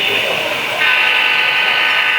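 A model railroad train runs through a club layout at an open house, giving a loud, steady mechanical whine and rumble close by.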